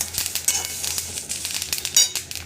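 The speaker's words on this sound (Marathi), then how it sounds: "हे पूर्ण भाजायच्या आधी आपल्याला यामध्येच लाल सुक्या मिरच्या भाजायच्या आहे" Dried red chillies roast in a pan for a flaxseed chutney, giving a soft, steady crackling sizzle broken by light clicks and scrapes of stirring; no voices.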